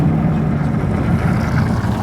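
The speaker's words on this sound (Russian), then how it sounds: "И выхлоп по-другому срать начал" Mercedes E63 AMG S-Model V8 engine and exhaust running with traction control switched off, a loud, steady low-pitched rumble with broadband roar heard from inside the car, with no talk over it.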